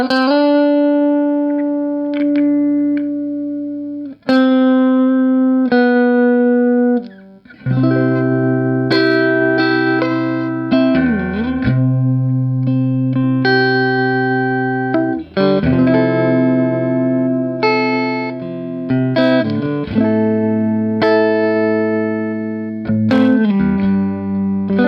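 A Stratocaster electric guitar fitted with a brass tremolo block plays ringing clean chords and single notes with sustained decay, close and loud, strummed in phrases with short pauses between.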